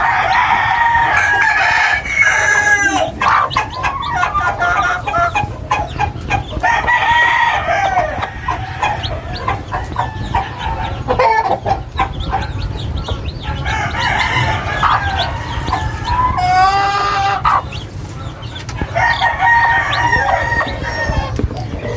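Three-month-old chicks cheep and cluck near at hand while roosters crow repeatedly in long, loud calls, several overlapping crows spread across the clip over a constant farmyard hum.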